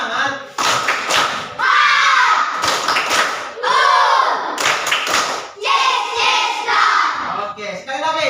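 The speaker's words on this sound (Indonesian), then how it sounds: "mari kita tepuk semangat dulu" A classroom of students performs the rhythmic Indonesian 'tepuk semangat' spirit clap during a science lesson, loud bursts of patterned hand claps mixed with shouted chanting voices, coming in several punchy waves with brief gaps.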